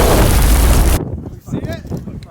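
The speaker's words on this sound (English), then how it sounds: "We blow up a big barn facade." A huge, close explosion blows up a big barn facade on a film set, a roaring blast lasting about a second that drops into crackling debris and excited voices talking afterward.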